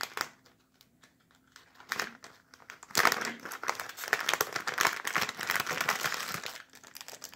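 Plastic packaging crinkling close by as a toy Minotaur figure is unboxed, faint scattered rustles at first, then several seconds of louder, busy crackling and crumpling.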